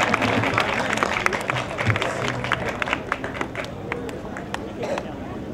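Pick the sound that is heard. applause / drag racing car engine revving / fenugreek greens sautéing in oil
applause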